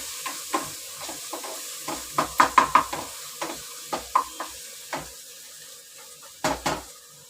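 Masala spice paste roasts in a pan with salt as a spoon scrapes and knocks against the metal in a steady series of clinks over a low sizzle.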